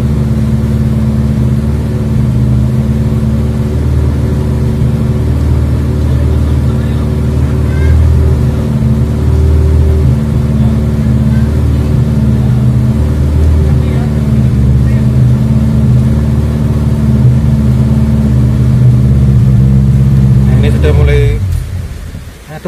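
A Suzuki Katana engine idles steadily on carburetor fuel, a loud continuous low rumble with its revs sagging slightly before it falters and cuts out near the end.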